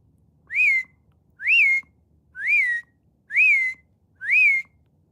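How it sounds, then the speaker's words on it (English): A person whistles to call a horse named Belle, five separate rising-then-falling whistles spaced about a second apart, loud and close against a quiet background. "That's my whistle to the horse."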